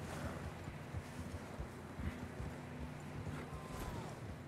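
Horse hooves clop on rough ground while riding in Red Dead Redemption 2, a steady stream of muffled hoofbeats over windy outdoor ambience, moderately loud with no talk.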